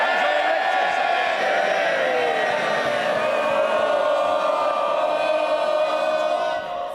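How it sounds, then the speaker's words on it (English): MPs in the House of Commons cheer loudly and continuously, a dense roar of many voices with whoops and shouts, sustained at full level and easing slightly at the end. "you want to carry on cheering?"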